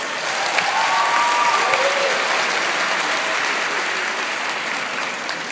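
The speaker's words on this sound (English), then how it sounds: "Graduates, give your parents a huge round of applause." Sustained applause from a large audience at a graduation ceremony in Carnegie Hall, loud and even, with a few faint shouts at the start before it gradually tapers slightly.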